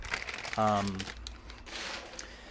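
Plastic packaging around a 4 Piston Racing K24Z7 cylinder head crinkles close up in short rustling bursts, as someone speaks briefly over it.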